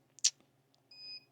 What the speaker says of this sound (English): I do apologize for the beeping in the background.